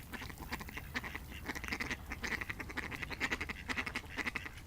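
A flock of ducks, white and brown spotted birds, quacks steadily and overlapping, a busy continuous chorus of nasal calls at moderate distance with farmyard background.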